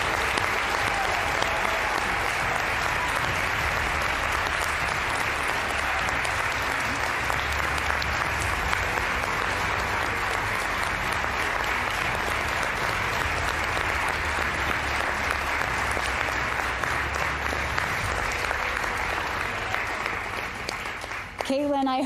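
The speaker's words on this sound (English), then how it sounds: "I hope you could hear those applause" Sustained applause from a large crowd at the Honda Cup awards ceremony fills the space, steady and loud throughout, with voices mixed in beneath the clapping.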